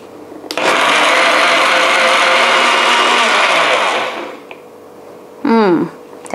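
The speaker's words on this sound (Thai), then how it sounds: "เดี๋ยวปั่นก่อน" A blender purees Chinese plums for sorbet in one loud, steady whirring run of about three and a half seconds that winds down, followed after a pause by a short second pulse.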